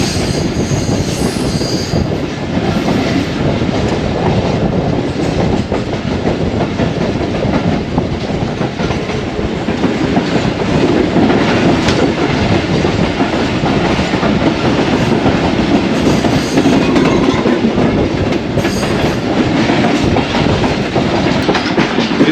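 Pak Business Express passenger train on the Karachi to Lahore main line, a loud continuous rumbling roar of wheels on rails with rhythmic clacking and occasional squeals, heard close and steady throughout with no talking.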